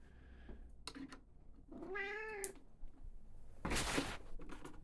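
A house cat meows close by, one drawn-out wavering cry in the middle followed by a louder, harsher yowl, set against a low indoor background hum with no speech.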